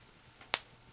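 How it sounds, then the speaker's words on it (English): A thumb joint popping: one sharp, brief crack heard close up in a quiet room, with nothing else around it. "That was the sound of my thumb popping"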